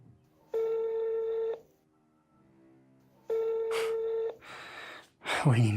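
Telephone rings unanswered indoors, two long steady electronic ring bursts separated by a pause, followed by brief noise and a voice at the end.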